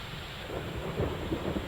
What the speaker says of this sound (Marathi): इथे संततधार पाऊस सुरू आहे